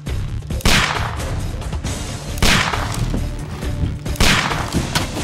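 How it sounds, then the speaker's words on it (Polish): Arrows fired at the players in Sherlock Holmes: The Devil's Daughter, three loud, sharp whooshing bursts spaced about two seconds apart, each trailing off over a rumbling background. "Gość się do nas strzela strzałami."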